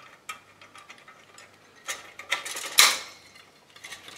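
A nut being tightened on a tin toy crane during restoration, with faint scattered metallic ticks and clicks building to a sharper scraping rasp near the end.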